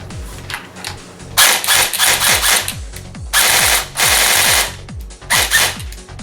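An AOD QR-Bolt B4A1 M4 airsoft AEG with electric blowback, run on a LiPo battery, fires several close, loud bursts of full-auto, each a rapid buzzing rattle of shots with short pauses between strings.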